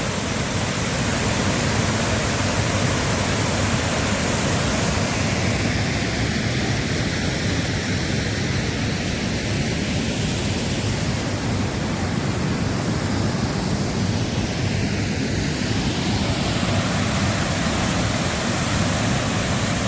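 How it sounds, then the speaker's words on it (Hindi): The Kilkila river near Panna pours into a deep kund pool with a loud, unbroken roar of falling water that holds steady throughout, with no voices. "पन्ना शहर के बिल्कुल करीब की नदी है ये किलकिला नदी, जो सर्वप्रथम ये कुंड में गिरती है।"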